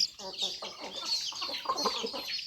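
Several chickens being chased clucking and squawking close by in a busy, continuous jumble, with some commotion mixed in.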